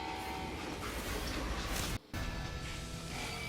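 Steady rumble and clatter of a moving train in the Western shooter Call of Juarez: Gunslinger, loud and continuous, with a brief dropout of the sound near the middle.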